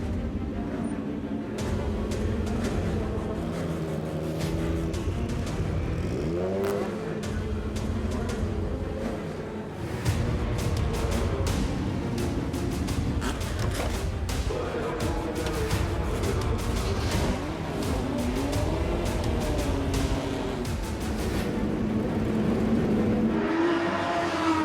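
A rare race car drives at the Spa-Classic 2017 historic meeting, its engine roaring loudly and continuously, rising and falling through gear changes and revs as it passes, with more cars heard in the background.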